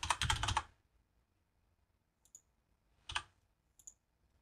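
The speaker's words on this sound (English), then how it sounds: "Now within this we're just going to type our title" Typing on a computer keyboard: a quick burst of close, crisp key clicks, then a pause and a few isolated taps and clicks against a quiet background.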